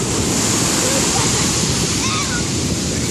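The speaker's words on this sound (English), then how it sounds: "when the water pulls back," Ocean waves wash onto a beach as a constant, loud surf roar, broad and unbroken, with the water surging and pulling back.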